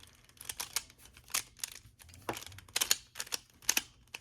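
A plastic pyraminx puzzle is twisted to scramble it, giving quick clicking and clacking turns in irregular bursts, close to the microphone and fairly faint.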